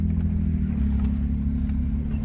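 Steady low engine rumble from an old beater truck being driven, a continuous loud drone with strong low harmonics and no pauses.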